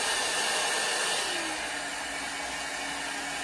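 A hair dryer brush running on its middle setting gives a steady, close, airy fan roar with a faint whine that settles slightly lower in pitch partway through.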